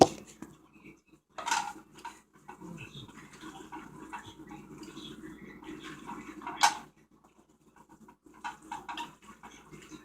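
A spoon mixes cheese into macaroni with sloppy joe sauce in a pot over low heat, giving soft wet squelches and a few sharp knocks against the rim, with quiet gaps between strokes.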